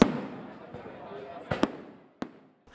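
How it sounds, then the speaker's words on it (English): Fireworks bursting over the final-night party at a beach resort in Phuket during a King's Cup celebration, a few sharp pops and bangs breaking through a murmur of crowd noise. "with a spectacular fireworks display and a candlelight ceremony to mark the King's birthday"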